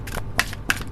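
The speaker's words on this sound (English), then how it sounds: "Just give me a moment, I'll shuffle the cards." Oracle cards being shuffled by hand in quiet surroundings, giving three short, crisp riffling bursts spaced across about a second, close and fairly soft.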